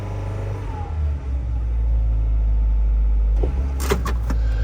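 A 1995 Geo Tracker's engine idles at a fast idle in a steady, loud, low hum, with a few light clicks and rattles near the end.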